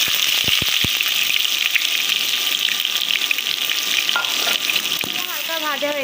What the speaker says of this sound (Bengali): প্রথমে দিয়ে দিব জিরা, এরপরে দিয়ে পেঁয়াজ দিব, পেঁয়াজ দিয়ে ভেজে নিব।